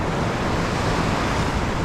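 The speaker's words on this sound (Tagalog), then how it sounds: "malalaking alon" Large ocean waves breaking on a rocky Philippine shore during a fishing outing, a steady loud broadband wash of surf with wind buffeting the microphone throughout.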